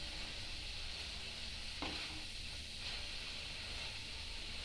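Egg and pea kachori deep frying in oil over a low flame, a steady close sizzle and hiss with faint stirring scrapes, continuous and even throughout.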